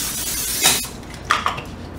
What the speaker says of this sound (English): the first thing I'm gonna do is I'm gonna spray